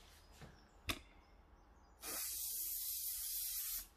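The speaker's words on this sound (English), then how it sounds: "Shaking the spray, and actually I need very little spray." A spray can of fixative is sprayed over a charcoal drawing, with a sharp click and faint handling first, then one steady, close aerosol hiss lasting nearly two seconds before it stops.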